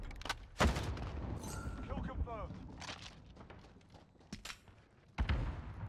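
AUG SMG fire in the video game Modern Warfare, with several sharp shot bursts and booms, mixed with game effects and a player talking over it.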